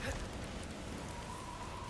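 Storm rain in God of War Ragnarök hisses as a steady, faint broadband wash with no distinct drops or thunder standing out.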